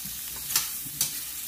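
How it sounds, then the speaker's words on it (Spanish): Onions sizzle steadily in a hot pan over high heat for a salt cod stew, with two quick, louder stirring scrapes standing out above the constant close frying hiss. "las vamos a sofreír rapidito"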